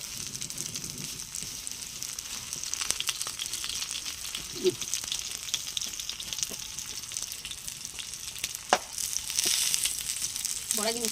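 Mustard flower fritters fry in hot oil with a steady, close sizzle, broken now and then by a few sharp clicks and clatters.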